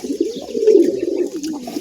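Pet pigeons coo while bathing at close range, giving soft low throaty warbles that rise and fall in a continuous run.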